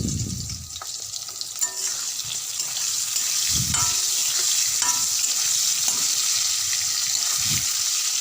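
Pointed gourd pieces fry in a pan, giving a continuous bright sizzle with occasional low knocks and stirring bumps throughout.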